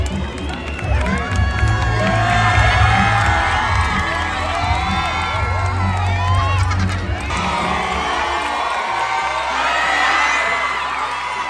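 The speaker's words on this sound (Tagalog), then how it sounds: "habang sumisigaw naman ang mga fan" Crowd of Kiss fans cheering, shouting and whooping continuously at close range, a dense roar of excited voices with high shrieks rising throughout, steady and loud.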